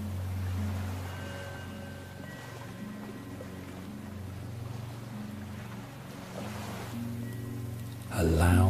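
Ocean waves wash in a continuous soft surge, with a low droning hum underneath and a louder swell near the end, calm and steady with no talking.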